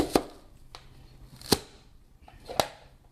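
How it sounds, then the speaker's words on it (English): A knife chops through a big onion on a cutting board for homemade salsa, three sharp, widely spaced thuds with a few softer taps between them, close and clear with no talk. "this is probably a big onion. I'll chop it in half."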